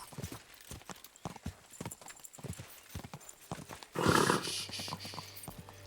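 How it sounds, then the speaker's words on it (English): Horse hooves gallop in a steady clip-clop rhythm in the medieval video game Kingdom Come Deliverance 2, rising into a louder, closer burst near the end. "Easy, good horse."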